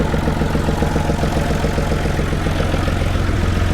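An old Massey Ferguson 135 tractor engine runs with the PTO engaged, a loud, steady, rhythmic diesel chug heard close and continuous throughout.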